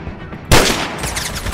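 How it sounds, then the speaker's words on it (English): Gunfire from the video game Roblox erupts suddenly after a quiet half-second, a loud burst of shots that carries on as a dense rattling barrage to the end, with no talk over it. "Oh god, I'm getting shot at again."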